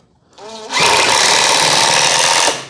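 A power drill drives a second screw into scrap wood for a bow caddy, starting with a brief low whir and then holding a loud, steady, rattling whine for about two seconds before cutting off.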